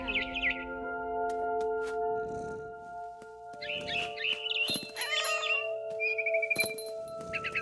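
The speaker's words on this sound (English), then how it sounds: "It was a barn swallow going back to her nest." A barn swallow chirping in What Remains of Edith Finch, quick bright twittering calls in short bursts over a sustained tonal music bed, with occasional thumps and rustles.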